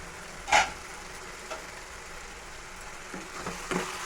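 Onions cooking in a pan for egg curry give a steady soft sizzling hiss, broken by a few light clatters of stirring, with no voices.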